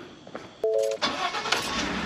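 A Ford F150 pickup truck engine cranks and catches with a brief starter whir, then settles into a steady idle rumble. The truck is fitted with new LED headlights.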